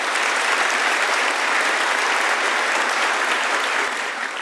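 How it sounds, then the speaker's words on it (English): An auditorium audience at an engineering tech talk applauds itself, a thick, even wash of many hands clapping at full strength, tapering a little near the end. "Audience, give yourselves a round of applause."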